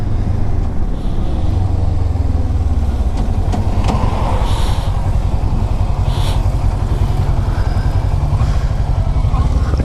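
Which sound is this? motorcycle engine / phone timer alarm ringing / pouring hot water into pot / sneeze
motorcycle engine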